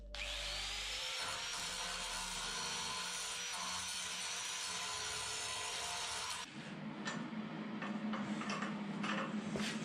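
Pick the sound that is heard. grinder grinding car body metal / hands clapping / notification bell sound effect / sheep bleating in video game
grinder grinding car body metal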